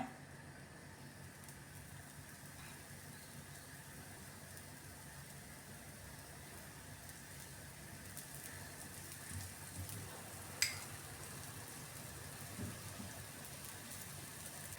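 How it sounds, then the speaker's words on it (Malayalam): A masala dosa sizzles softly and evenly on a hot pan as ghee is poured along its side, a faint, continuous hiss with one small tap partway through. "ഞാൻ ഇതിൻ്റെ സൈഡിലേക്ക് കുറച്ച് നെയ്യ് ഒഴിച്ചു കൊടുക്കുകയാണേ"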